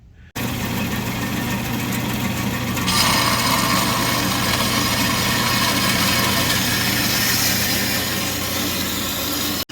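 A power tool runs loud and steady, cutting a metal stand for a custom spare tire mount on a 2021 Silverado 2500HD truck, with a continuous grinding whine that shifts slightly in tone partway through.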